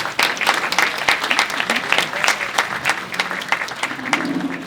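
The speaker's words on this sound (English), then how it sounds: "Yes, please applaud." An audience at a speech at New Gracanica Monastery applauds, dense hand claps with uneven peaks and dips that fade slightly toward the end, with faint voices underneath.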